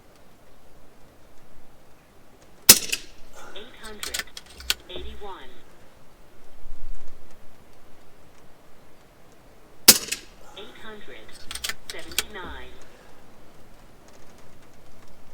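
FX DRS regulated air rifle firing, two sharp shots several seconds apart, each followed by a rattle of action cycling, quiet between them.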